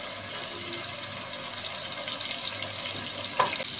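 Onion, garlic and ginger paste frying in hot oil with bay leaf, cloves and cinnamon makes a steady, close sizzle. Light stirring scrapes run through it, and a brief clink comes near the end.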